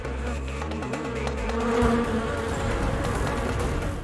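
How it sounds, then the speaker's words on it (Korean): Hornets buzz steadily around honeybees at an apiary in summer heat, a dense droning hum of many wings close by with no voices. "실제로 촬영을 하고 있는 이 와중에도 눈앞에서 버젓이 꿀벌을 납치해 갑니다."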